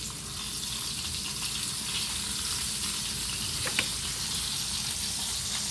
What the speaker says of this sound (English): So I have my fork here. I'm going to flip the pork chops.